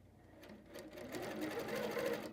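A quilting sewing machine with a TruStitch stitch regulator runs in a short, close burst, its fast needle chatter building slightly in loudness over about two seconds.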